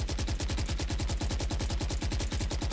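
Rapid burst of gunfire from a weapon in the video game Valorant, a fast, even, unbroken stream of loud shots close up with no talking.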